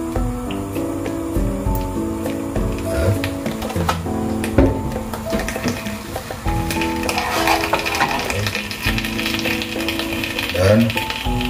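Onion and garlic dropped into a pan of hot oil for Korean fried rice, sizzling steadily with clinks and stirring scrapes of a utensil against the pan throughout.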